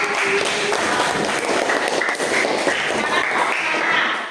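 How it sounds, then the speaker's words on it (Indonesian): A classroom group claps for the group in a dense, continuous burst of applause that lasts the whole moment. "Oke, tepuk tangan untuk kelompok."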